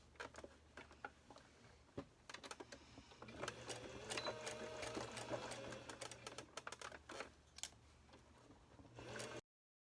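A sewing machine top stitches along a folded edge of a fabric dog diaper, its needle ticking in a quick, close, rapid clatter with brief pauses and restarts.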